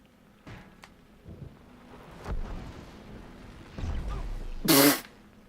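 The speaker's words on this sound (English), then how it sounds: "Shoot lightning at that." Lightning shot in the Lego Marvel Superheroes video game, several low rumbling crackles and thumps building to a loud, sharp electric burst near the end.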